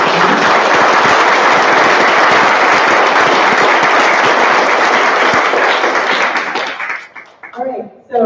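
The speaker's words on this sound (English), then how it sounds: "can I get a round of applause for one?" An audience at an open-advancement gathering bursts into loud, dense applause that holds steady for several seconds, then thins out and fades near the end as a voice begins to speak.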